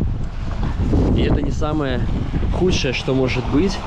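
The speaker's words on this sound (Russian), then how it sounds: "Сильнейший ветер что-то поднялся прям вообще" Strong wind during flooding in Krasnodar, Russia, buffets the microphone with a constant roaring rush while someone speaks over it.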